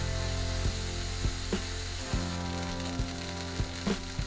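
A burger patty sizzles steadily on a hot steel plancha, its crust building during the first side's cook. The hiss is loud and continuous, with faint periodic ticks and pops running through it.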